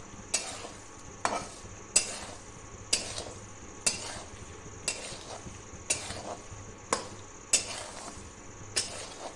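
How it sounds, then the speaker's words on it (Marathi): Puris roasting in hot, darkened salt in a pan for pani puri, with rhythmic scraping strokes about every second over a steady low sizzle, close and fairly quiet. "ह्या मिठात घालून अशा पद्धतीनं भाजून घ्यायचं"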